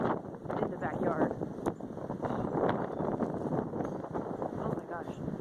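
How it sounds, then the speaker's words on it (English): Strong wind gusts batter a backyard, blowing in rough surges with wind buffeting the microphone, while a person talks over it. "these are some serious gusts. Like big trees falling over kind of serious gusts"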